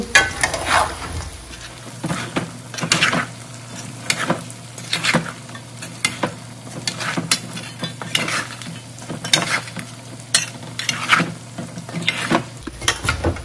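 Chicken pickle is stirred in a hot pan, with scraping strokes in a steady rhythm over a constant sizzle and crackle of frying, close and fairly loud.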